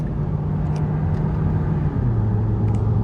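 A Mazda 3 drives along with a steady, close engine drone that drops in pitch partway through as the gears shift.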